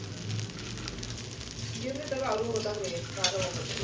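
Chillies frying in a pan for a home Ugadi festival meal, stirred with a steady sizzling hiss and scraping that grows slightly louder midway, with faint voices in the background.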